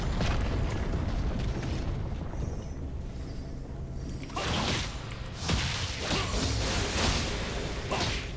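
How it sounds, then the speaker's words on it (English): Turret destruction in the League of Legends video game: a run of booming, crashing explosion bursts and whooshes over a dense game soundtrack, with heavy impacts from about the midpoint onward and no talk. "Your team has destroyed the turret."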